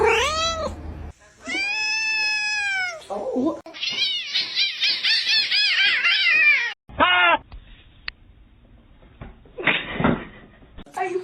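A domestic cat meows loudly up close, several drawn-out, wavering meows and caterwauls with short silences between, along with a brief knock or bump.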